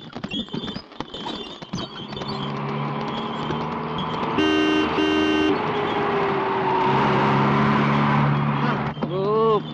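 A police vehicle drives close past on a dusty road, its engine and road rumble rising as two short horn blasts sound in the middle, while people talk over the noise.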